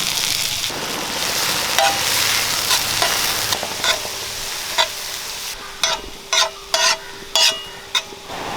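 Chopped onion frying in a little oil in a pan, a loud continuous sizzle at first, then settling as a spatula scrapes and taps the pan in a run of sharp, evenly spaced strokes.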